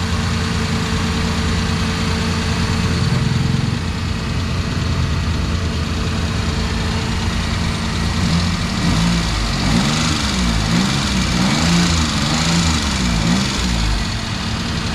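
A vehicle engine idles steadily after its belt was tightened, a continuous low rumble with a faint whine wavering up and down partway through, running alone at close range for the whole stretch.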